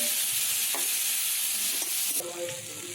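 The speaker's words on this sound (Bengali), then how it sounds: "টমেটোটাকে দিয়ে ভালো করে নাড়াচাড়া করে নিতে হবে যতক্ষণ না টমেটোটা গলে যাচ্ছে" Tomatoes and spices sizzling in a hot pan while being stirred, a loud continuous hiss with a few spatula scrapes, close up and without voices.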